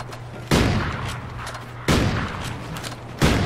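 Three loud single gunshots ring out in Call of Duty Ghosts, evenly spaced about 1.4 seconds apart, each a sharp crack with a lingering tail over a low steady hum.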